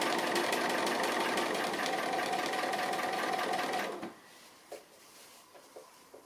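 A sewing machine stitches applique on fabric, running at a steady, even buzz for about four seconds close by, then stopping, followed by a few faint clicks and handling sounds.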